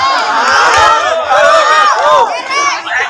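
A large audience at a humorous Islamic sermon shouts and cheers together loudly, the crowd voices rising and falling in waves over about three seconds.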